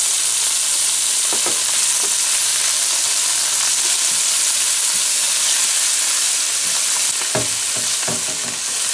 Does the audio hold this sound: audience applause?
no